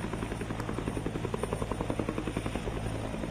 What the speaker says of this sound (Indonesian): Anda bisa saksikan bersama-sama proses penurunan mereka dari helikopter.